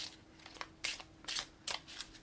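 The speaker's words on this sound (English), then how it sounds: "These go back in, and we shuffle them again." A deck of cards from the 7th Continent board game is shuffled at close range, quiet bursts of riffling and sliding at an uneven pace, with no voices.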